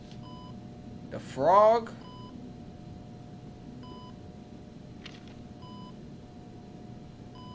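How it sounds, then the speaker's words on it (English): Short electronic beeps repeat at a steady interval through a Heavy Rain game scene, faint against a low background hum, while a person speaks briefly over the start. "That beeping is highly annoying."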